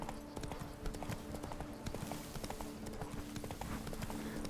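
Roach the horse gallops in The Witcher 3, a dense, continuous clip-clop of hooves at a steady fast rhythm, close and prominent, with faint ambient game sound behind.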